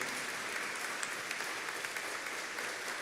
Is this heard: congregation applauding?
yes